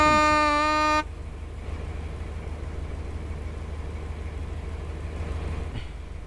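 Passenger train braking in the Roblox railway game Stepford County Railway, with a brief horn-like tone at the start giving way to a steady low rumble and hiss that carries on evenly.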